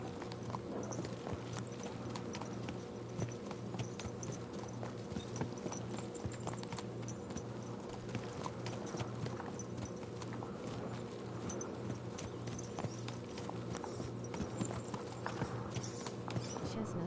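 Horse hooves clip-clop steadily in Kingdom Come Deliverance 2, a continuous rhythmic clatter of hoofbeats over a busy outdoor game ambience.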